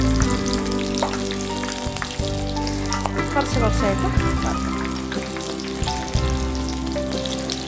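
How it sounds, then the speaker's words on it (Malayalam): Mixed vegetable pakora deep-frying in hot oil, a steady loud sizzle and bubbling throughout with occasional stirring clinks, while a person talks briefly over it. "ഇനി കുറച്ചുകൂടി ക്രിസ്പി ആൻഡ് ബ്രൗൺ ആയിട്ട് വറുത്തെടുക്കാം."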